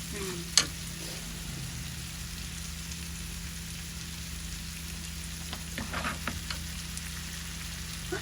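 Hilsa fish fries steadily in a pan for a Bengali eggplant curry, giving a soft continuous sizzle with light stirring scrapes and a single sharp clink near the start, and no talking.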